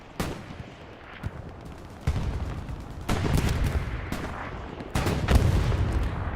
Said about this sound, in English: Nice strafing run, buddy.